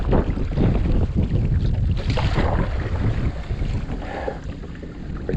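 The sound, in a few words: kayak paddling on the Susquehanna River with wind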